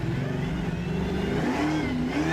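A 9.7 litre Ford drag car engine screams under hard acceleration, a loud, steady, close roar with rising and falling pitch as it revs, heard alone without speech.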